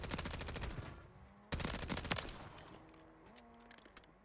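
Gunfire in the video game Warzone: rapid bursts of automatic shots crack in dense volleys, pause briefly, then resume loud and close before fading into scattered shots.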